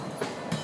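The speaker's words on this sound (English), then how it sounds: "Oh, it's not a train, it's a band." A street one-man band in a crowded square in Prague, heard briefly as a rhythmic rattling clatter that resembles a passing train, with two soft thumps in well under a second.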